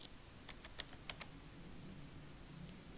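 Quiet typing on a computer keyboard: a short burst of about eight light key clicks near the start, then only a low hiss, faint and alone.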